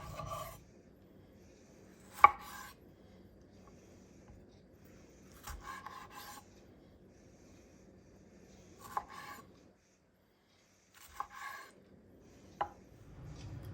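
A knife chops vegetables for salsa roja on a board in short clustered bursts of rough cutting, separated by pauses, close and fairly soft, with no talking.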